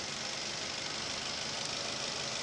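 A Daihatsu Terios engine fitted with a cold air intake runs steadily at idle, a close, constant hiss-laden hum with no pauses or talk.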